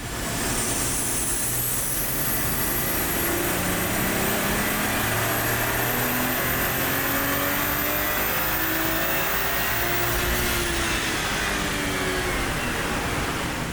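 A Toyota A90 Supra with a manual gearbox roars loud and close on a dyno, its engine note climbing steadily through a long, sustained pull before a quick drop-off near the end.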